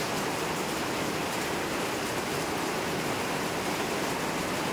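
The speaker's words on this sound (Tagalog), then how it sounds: "Grabe ang lakas ng ulan." Heavy, storm-driven rain pouring in Quezon Province, Philippines, a loud, dense and unbroken hiss that stays constant throughout with no voices.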